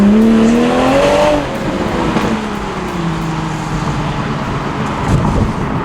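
A Toyota Supra A91 engine revs up and then drops as the car pulls away on a wet road, a rising tone that falls off and fades into steady road and tire noise.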